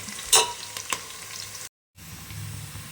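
Onions for biryani fry and soften in a pan with a steady sizzle. Two quick stirring scrapes sound near the start, the sound cuts out briefly, then the sizzle returns.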